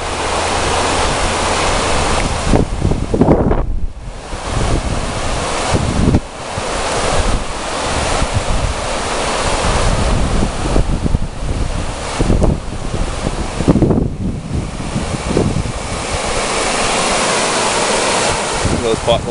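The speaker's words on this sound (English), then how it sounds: "Way, way down there is the river." Oyster River on Vancouver Island rushing over bedrock and potholes far below a high bridge, a steady broadband roar of water mixed with wind buffeting the microphone throughout.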